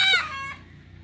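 A chicken gives a single short, close cluck or squawk that fades within half a second, with no talk.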